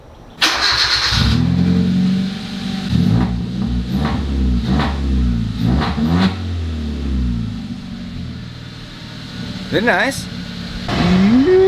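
Ferrari engine revving and roaring past in a series of loud, rising pulls, with a person speaking briefly over the engine noise.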